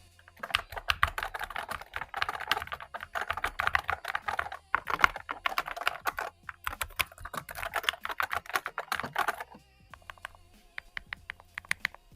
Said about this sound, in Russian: Вот так вот звучит наша клавиатура, смазанная.